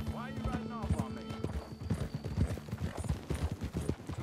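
Horse hooves clip-clop steadily in Red Dead Redemption 2 as a rider trots along, the rhythmic hoofbeats sitting close under a voice speaking throughout.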